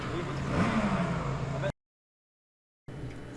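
A 250 lightweight racing motorcycle at Manx Grand Prix practice revs hard, its pitch sweeping up as it passes, before the sound cuts out briefly and then returns.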